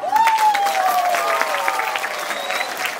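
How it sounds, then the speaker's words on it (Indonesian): A crowd claps for a Balinese dance performance at a temple ceremony in Sangsit, Bali, a scattered burst of applause with a faint tonal ringing sound above it. "Icenen tepuk tangan."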